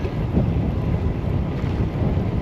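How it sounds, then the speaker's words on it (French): Wind buffets the microphone in a steady low roar during a windy coastal outing toward Cap Fréhel, loud and continuous without a break. "même s'il y a pas mal de vent."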